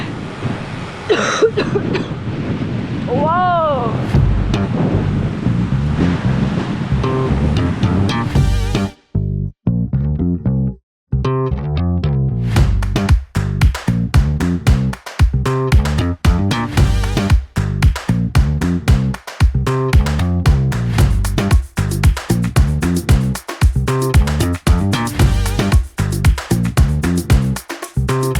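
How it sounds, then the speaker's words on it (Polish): Strong wind buffets the microphone in heavy, uneven gusts during a 250 km cycling race in Lubusz, Poland, with a brief exclamation from a voice early on. "Wiatr jest."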